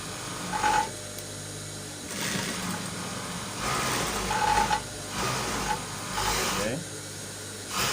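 A sewing machine stitches a half-inch seam joining the lining of a waistcoat jacket, running in several short bursts of mechanical whirring with pauses between, moderately loud under a steady background hiss.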